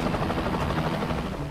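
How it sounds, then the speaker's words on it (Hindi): A Bell 212 helicopter in flight gives a loud, steady, close rotor and engine roar with continuous dense chop and no pauses. "यह हेलीकॉप्टर तेजी से अपनी डेस्टिनेशन की तरफ बढ़ता है।"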